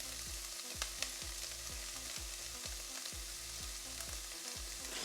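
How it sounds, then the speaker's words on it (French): Carrots sizzle loudly in a hot pan with browned garlic for an Asian noodle dish, a dense, constant frying hiss broken by regular stirring scrapes. "On vient y mettre nos carottes. Petite ASMR cuisson."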